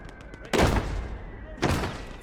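Grille self-propelled gun firing in the WWII game Gates of Hell: Ostfront, two sharp loud blasts about a second apart, each trailing off in a rumble over quieter background battle noise.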